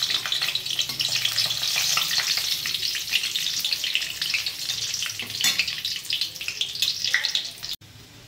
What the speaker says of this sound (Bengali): তেল বসিয়ে দিয়েছি, তেল আমার গরম হয়ে গেছে, আমি ফোড়নগুলো সব দিয়ে দিলাম